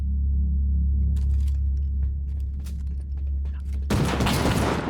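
Ghost Recon-style survival game Rust: a low steady rumble with scattered faint clicks gives way to a sudden loud burst of gunfire that continues as dense, crackling shots near the end.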